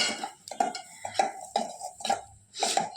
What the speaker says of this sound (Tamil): 1/2 கப் ரவையை போட்டு நல்லா வறுத்துக்கலாம்.